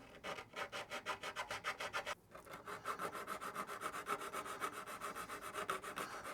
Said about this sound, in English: I'm just letting the sanding stick do the work.